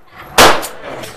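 A single loud, sharp shot from a Girsan 1911 pistol, close to the microphone, with a brief ringing decay after the blast.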